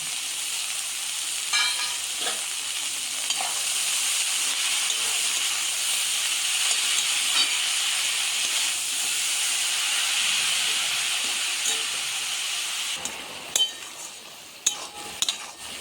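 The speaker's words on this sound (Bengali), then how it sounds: "শাকটা নেড়ে চেড়ে দিলাম সাতটা সেদ্ধ হয়ে গেল একটু খুন্তি দিয়ে ঘেঁটে দিলাম" Chickpea greens cook in a hot pan for a traditional Bengali dish, with a steady loud sizzle and hiss throughout and a few sharp spatula scrapes and knocks near the end.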